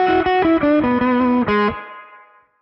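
A slow blues lick in B, played on an electric guitar through a distorted, effects-laden tone. A short descending run of sustained, bent notes ends on a held note that rings out and fades alone.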